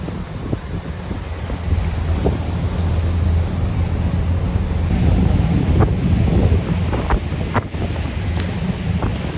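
A speed boat crossing from Gateway of India toward Mandwa jetty near Alibag: a steady low engine drone beneath rushing wind and slapping waves, loud and continuous throughout.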